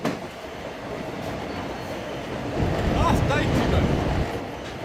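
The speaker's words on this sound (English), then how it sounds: "the angry beat of the two locomotives today" Two steam locomotives work hard at sunrise, their heavy rhythmic exhaust beat rolling over a continuous loud rumble, steady and fairly close, with the chuffing swelling louder toward the middle.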